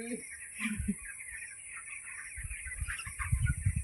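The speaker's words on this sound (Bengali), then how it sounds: "এখানে একটা ছোট পাখি আছে জানো?" Small birds kept in a pen cluck and chirp in short, close bursts over a steady high hum, growing busier toward the end.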